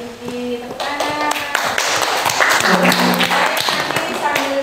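A school chemistry class clapping hands together, a burst of many overlapping claps building and sustaining at close range, with voices talking over the clapping.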